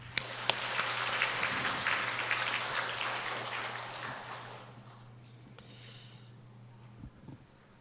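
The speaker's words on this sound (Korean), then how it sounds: "하나님께 영광의 박수를." A church congregation at Sunday worship bursts into applause, a dense clapping wash that swells early then tapers into scattered claps and quiet, with a low steady hum running underneath and a couple of sharp knocks.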